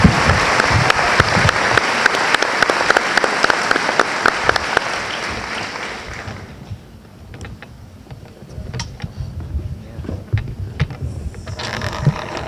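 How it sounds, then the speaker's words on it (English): An audience at a graduation ceremony applauds loudly with dense clapping for several seconds, then it thins out into scattered claps and quieter room noise. "A nice big round of applause for all of our award winners tonight"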